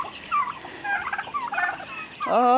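Turkeys gobble in quick warbling bursts, several overlapping calls nearby at moderate loudness, ending with a louder rolling gobble.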